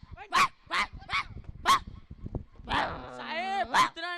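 In a school play, a person imitates a barking dog with a string of sharp, voiced woofs and whimpering yips, loud and close, ending in a drawn-out whine.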